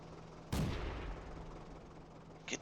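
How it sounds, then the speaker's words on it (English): In the World of Tanks video game, a single tank cannon shot lands as a sharp, loud boom with a rumbling tail, over a steady low engine drone, with a faint second crack near the end. "you're being shot at from 2 locations"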